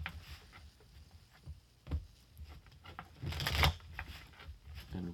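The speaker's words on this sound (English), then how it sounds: "other times it's kind of just shuffling the deck" A deck of tarot cards shuffled by hand at close range, soft riffling bursts and papery flicks coming in uneven clusters with quiet gaps between, building to a denser flurry near the end.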